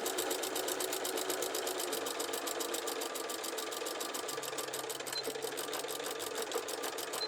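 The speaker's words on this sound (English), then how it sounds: "make your stitch length back to normal, and stitch your pocket down" A sewing machine stitches a pocket down on a waist apron, a fast, even mechanical rattle running steadily and fairly faintly throughout with no pauses.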